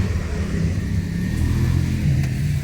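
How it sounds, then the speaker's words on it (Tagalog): A car engine running, a steady close low rumble with slight swells, heard alone without talk. "Kotse namin."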